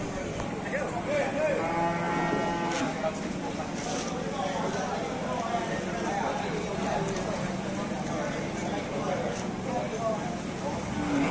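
Cattle at the Sibreh livestock market, including a black cow and a pegon cow, low amid a dense, steady din of crowd noise and nearby voices talking throughout.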